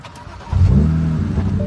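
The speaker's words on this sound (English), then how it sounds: "Now we start the engine." The engine of a car bought from an auction and driven daily turns over and catches after a short starter crank, then settles into a steady mid-pitched idle rumble close by.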